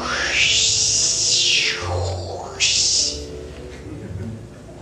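A voice makes a long hissing, rushing whoosh imitating pink noise, sweeping down and back up in pitch, loud and close with an echoey, processed quality.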